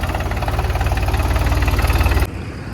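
Sonalika DI 32 Baagban mini tractor engine idling close by, a loud, steady low chugging with a regular knocking pulse that cuts off abruptly near the end, leaving quieter background noise.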